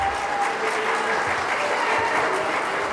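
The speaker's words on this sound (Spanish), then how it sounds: "Dele un aplauso fuerte a Jesús" A Spanish-speaking church congregation applauds loudly during a sermon, producing a dense, continuous wash of clapping that holds evenly throughout with no voices on top.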